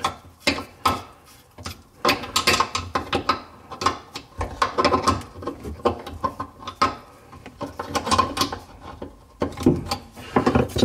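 A bathroom sink faucet's retaining nut is loosened by hand under the basin, making a busy run of close clicking, scraping and knocking handling sounds that come in uneven bursts.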